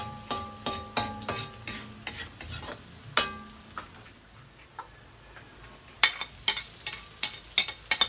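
Garlic, onion and tomato sautéing in a pan for beef mechado, with a spatula clicking and scraping in quick bursts over a faint sizzle, close by and with no talking.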